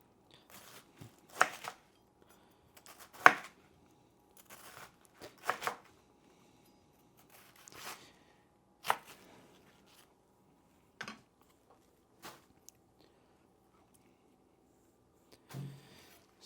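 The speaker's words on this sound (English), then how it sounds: "This is where I struggle, is cutting up stuff like cabbage." A knife chops through cabbage on a board in a home kitchen, giving sparse, crisp crunching strokes with short pauses between them, heard close against otherwise quiet surroundings.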